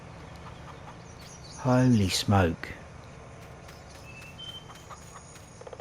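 A few loud, close clucks from chickens in the Farming Simulator 19 video game, one burst after another in the middle, followed by quieter ambience and faint game sounds.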